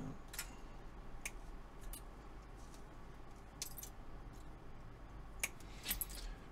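Pliers snip through sculpture armature wire with a few quick, crisp metallic clicks, close by and fairly quiet against a faint room hiss.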